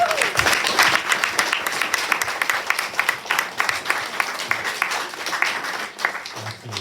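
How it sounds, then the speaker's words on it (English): Applause from an audience at a high school poetry slam, a steady patter of many hands clapping at moderate loudness throughout, with a brief low sound at the very end. "Let's give them another round of applause."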